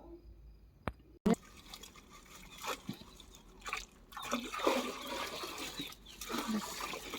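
At an organic farming demonstration, a seed treatment mixture is stirred in water, producing irregular sloshing, swishing and light splashing at moderate to faint level, with a couple of sharp knocks near the start.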